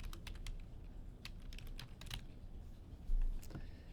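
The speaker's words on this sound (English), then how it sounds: "I could continue typing that pattern" Someone types on a computer keyboard, entering an email-address pattern into an Excel spreadsheet, with a steady run of sharp, close key clicks over a quiet room hum.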